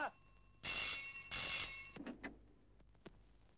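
A telephone bell rings in two loud bursts, followed by brief clattering and faint handling noises in a quiet room.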